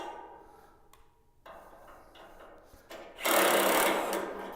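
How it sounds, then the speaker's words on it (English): A saw head on a 1220 saw assembly drives back and forth after cranking, giving a mechanical rattling whir that starts quiet and irregular, then jumps to a louder, steady buzz near the end. "So now our saw head's driving back and forth."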